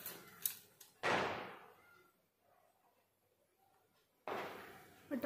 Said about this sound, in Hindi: पटाखे फोड़ रहे हैं सब।